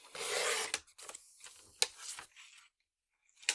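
A sheet of craft paper being trimmed down to a partial panel for embossing makes a long sliding cut followed by several shorter rasping strokes, close and quiet, then silence.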